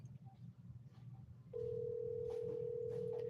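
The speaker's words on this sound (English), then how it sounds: "I just keep calling, and you hear the phone, but he's refusing to answer" An outgoing telephone call goes unanswered. After a low background hum, a steady ringback tone starts partway through and holds unbroken and fairly loud to the end.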